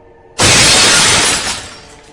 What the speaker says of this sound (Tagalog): biglang nabasag na ang salamin na kotse ni Derek.